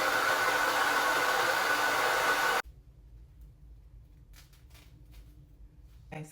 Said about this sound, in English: So now we are going to dry this until it is completely dry, totally dry. This is the old blow dryer I have from, I think, Sally's, but it works.